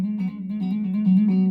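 Guitar string plucked once, then sounded by a rapid repeated hammer-on and pull-off, giving a clear, close, trill-like wavering between two notes that sustains without talking.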